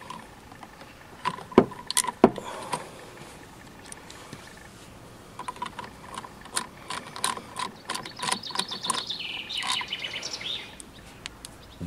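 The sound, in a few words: socket wrench loosening four screws on GY6 scooter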